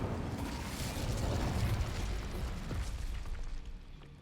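Incendio fire spell cast in Hogwarts Legacy: a broad roaring whoosh of magical flame with crackling bursts that swells and then tapers away, loud and steady with no talk.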